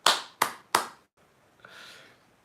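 Three sharp hand claps in quick succession, close and fairly loud, followed by a brief quiet stretch and a faint airy rustle.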